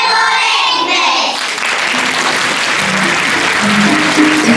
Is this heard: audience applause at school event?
yes